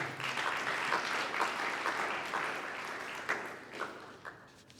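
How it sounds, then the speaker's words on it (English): Audience applause for a young man at a book review event, a sustained, moderately distant patter of many hands that gradually thins out toward the end. "we should give the young man a round of applause"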